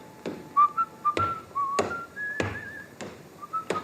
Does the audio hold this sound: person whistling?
yes